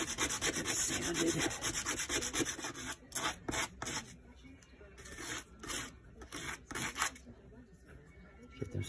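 Small wooden pieces for a handmade kuripi being sanded by hand, a steady close scratchy rubbing that runs continuously at first, then breaks into short strokes with pauses.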